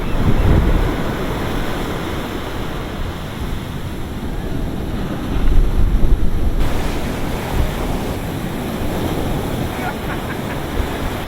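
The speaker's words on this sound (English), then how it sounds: "This is the Indian Ocean." Indian Ocean surf off St Lucia, South Africa: a steady broadband wash of breaking waves with gusts of wind buffeting the microphone, swelling briefly louder midway, continuous and fairly close throughout.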